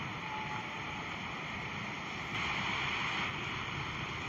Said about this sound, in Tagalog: malakas yung hangin tsaka ulan